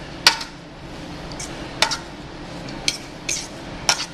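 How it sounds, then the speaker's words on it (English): A fork tossing parsley salad in a mixing bowl, giving four or five separate sharp clinks and scrapes spaced about a second apart, close and fairly loud over a quiet background. "We're going to lightly toss it in the mixing bowl."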